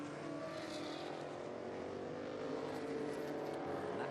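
A 1989 Porsche 962C race car roars past on a road course at a historic racing reunion, its engine a loud, steady, dense drone across the whole moment with no break.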